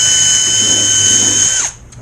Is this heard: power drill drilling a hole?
yes